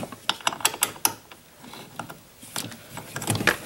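Ratchet wrench tightening a seat belt bolt inside a 2009 Ford Fusion, rapid clicking bursts up close, pausing briefly and then resuming with more clicks.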